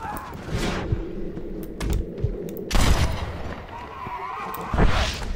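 Bursts of gunfire in Red Dead Redemption, several loud volleys with a steady low rumble of game noise in between.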